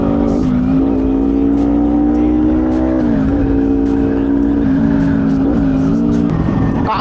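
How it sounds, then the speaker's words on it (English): A Kawasaki Ninja 300 motorcycle engine revs loudly and close up, holding a steady buzzing tone broken by several quick dips and rises in pitch as the throttle is blipped. "Kawasaki Ninja 300 एक small rocket है। आवाज़ के साथ साथ इसकी परफॉर्मेंस में भी दम है।"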